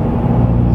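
A Hyundai Veloster N cruising on an open road gives a steady, low, smooth engine and road rumble, heard from inside the car for a brief moment.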